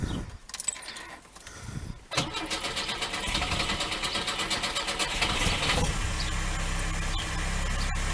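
A Lada 2102 with a freshly rebuilt carburettor starts after keys jangle in the ignition, then runs at a steady idle with a slight misfire, loud and close.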